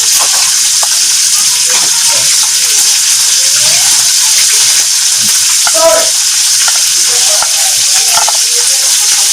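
Steady loud sizzling of fish frying in a pan, continuous hiss throughout with occasional soft clinks.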